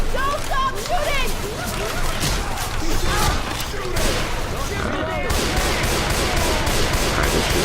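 Dense, continuous gunfire from a cooperative first-person shooter video game, loud and unbroken with overlapping bursts and booms, mixed with chaotic game sounds and voices throughout.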